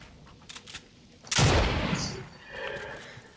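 A single loud gunshot bursts in Fortnite, a sharp broadband crack with a short decaying tail, preceded by faint rapid shots and followed by quieter game sounds and distant talk.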